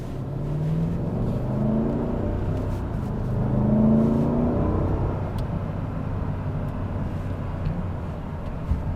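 A 2026 Mercedes GLS 580 accelerates in sport mode on a road, its engine drone rising and swelling in pitch as the revs climb, then holding at a steady whir from inside the cabin, with no talking.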